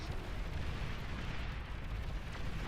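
Massed wind generators blow up in the strategy game Beyond All Reason, a dense, continuous rumbling roar of overlapping explosions that stays loud and steady throughout.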